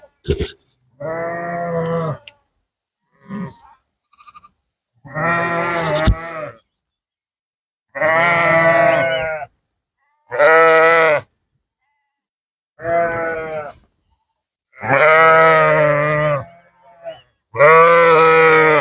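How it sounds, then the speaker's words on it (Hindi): A large flock of sheep with young lambs bleats loudly and close by, with repeated long wavering calls spaced a second or two apart. "बहुत बड़ा एक रेवड़ है, छोटे बच्चे भी हैं साथ उसके रेवड़ के"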